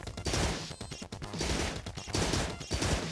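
Assault rifle fire in the video game Relics Hunters Zero, loud rapid bursts of shots repeating in several volleys with brief gaps between them.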